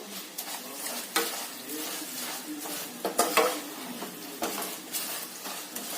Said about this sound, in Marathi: फोडणी मात्र अजिबात करपू द्यायचं नाही